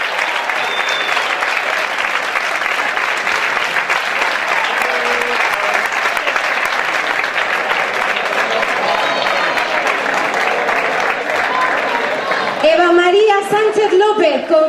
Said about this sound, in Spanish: Un fuerte aplauso para Guadalupe Bragado, directora general de Juventud de la Comunidad de Madrid.